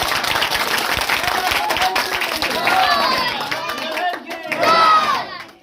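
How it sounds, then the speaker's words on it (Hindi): Audience applause at a community association gathering in a village, loud dense clapping from a crowd with voices and shouts mixed in, swelling and fading in waves before tailing off. "इनके लिए भी आपको तालियां"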